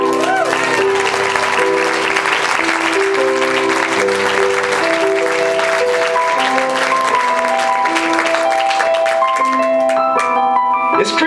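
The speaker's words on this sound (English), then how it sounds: "give God Jameson a big round of applause" An indoor audience gives a long round of applause while music plays underneath, the clapping continuous and loud for the whole stretch.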